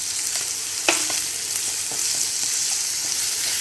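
Sliced onion goes into a hot pan of oil with curry leaves and sizzles loudly and steadily, with one sharp crackle as it lands, close up, alone and with no voices.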